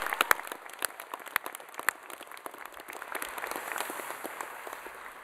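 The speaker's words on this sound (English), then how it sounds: "Another round of applause." Applause fills the hall at a 2017 Massey University graduation ceremony in Manawatū, with many hands clapping in a steady patter and a few sharper claps standing out.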